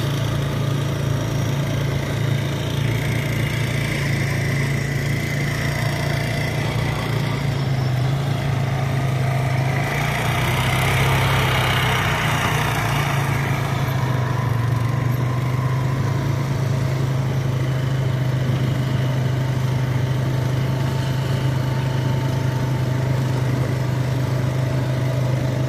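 A steady, droning tractor engine runs throughout with the rumble of a pulled rough cut mower beneath as it mows a field, close and continuous with no talking.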